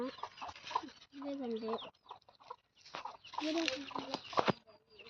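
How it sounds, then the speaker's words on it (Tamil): Chickens cluck and call close by, with brief bursts of vocalizing mixed in among people talking. "இதான் நம்மளோட கோழி."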